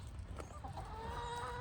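Backyard hens cluck softly in a few short, quiet calls over a low rumbling background, part of a flock of seventeen.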